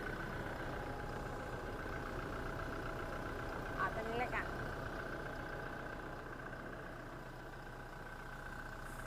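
A Toyota Revo Smartcab pickup idles with a steady low engine hum, even and unbroken, while someone briefly speaks near it.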